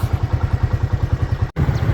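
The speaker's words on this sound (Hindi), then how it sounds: "मोटरसाइकिल जैसे तैसे करके हमने अपना स्टार्ट कर दिया है" A motorcycle running in a rural area of South Punjab, Pakistan, chugs with a rapid, even engine beat, loud and near, briefly cut out before carrying on.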